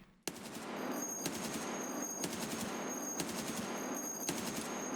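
Automatic gunfire in the video game Escape from Tarkov, a sustained, rapid rattling burst that starts suddenly and continues nearly unbroken at a fast, even rate.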